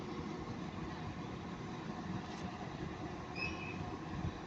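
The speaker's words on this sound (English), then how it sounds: "There goes 221131, working the 1303 cross country service to Bristol Temple Mead." A train at Manchester Piccadilly station, the cross country service to Bristol Temple Meads, rumbles steadily and close by with a continuous rail drone and a brief high squeal near the end, with no talking.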